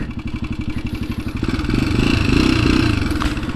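A Honda XLX 250R motorcycle engine revs hard, starting with a rapid, choppy pulsing beat that builds into a loud, sustained roar before easing slightly, heard up close with no talking.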